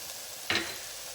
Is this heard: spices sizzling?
yes